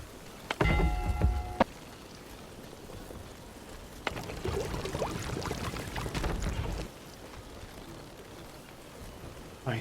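Tainted rain falls in the colony-building game The Wandering Village, a soft steady patter of drops that swells for a few seconds mid-clip, mixed with other game sound effects.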